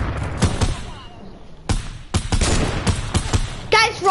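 A heavy sniper fires in a Fortnite match, mixed with other gunfire: a few sharp, loud bangs and rattling bursts, with players' voices talking over them.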